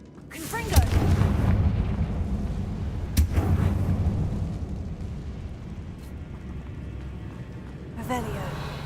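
Fire spell explosions cast in the Hogwarts Legacy video game, a loud boom near the start and a second sharp blast around the middle, set against a rumbling game soundscape with speech present.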